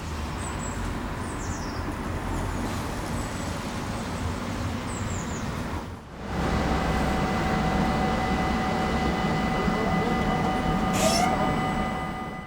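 A steady rumble of a tram passing a calm station on the Uithoflijn in Utrecht, with rail hum and a faint high squeal near the end, outdoors with birds chirping in the background.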